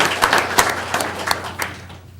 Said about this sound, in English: Let's give her a congratulatory round of applause.